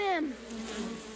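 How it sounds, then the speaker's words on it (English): A swarm of tiny jungle bees gathered on a rock face hums in a steady, droning buzz, heard close after a short falling tonal sound at the start, alone without voices. "Oh, bees! There are millions of them!"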